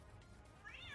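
A single rising meow from a ship's cat in a space video game, clear against a constant low mechanical hum.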